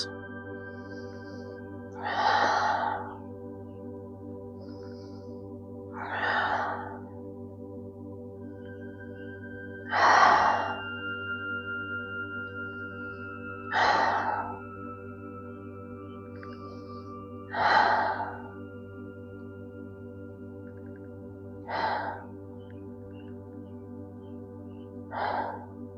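Deep, slow yoga breaths drawn in and let out while holding a seated twist: seven long, even breath sounds spaced about four seconds apart, close and clear over a steady low background hum, with no talking.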